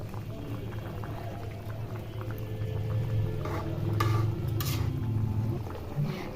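Katla fish curry gravy simmers in a pan with a steady, close bubbling and gentle sizzle that holds throughout and swells slightly midway, with no voices.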